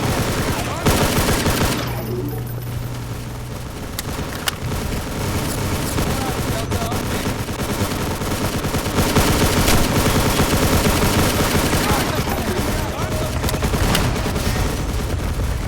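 A 5.56 rifle fires in the video game Hard Time (HDTF), loud sustained bursts of rapid gunfire with booming impacts filling the whole stretch.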